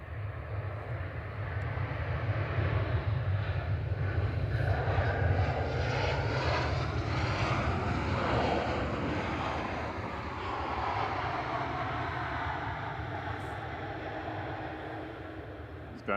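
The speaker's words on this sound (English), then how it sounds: "This is EasyJet 2162 from Amsterdam, GEZGY, an A320 Classic." An EasyJet Airbus A320 Classic roars steadily at Manchester Airport, a loud sustained jet engine rumble with broad hiss that swells slightly mid-pass and then eases, with no voices over it.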